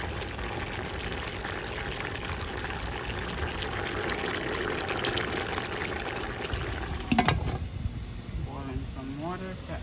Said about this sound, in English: Boiling some water to add to my curry goat.